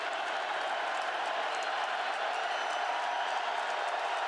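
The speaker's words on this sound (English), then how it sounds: "Badger crowd in full throat." Wisconsin Badgers home crowd at a college football stadium roaring steadily during a fourth-down play against Northern Illinois, a dense, continuous wall of cheering at constant loudness throughout.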